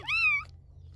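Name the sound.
kitten meowing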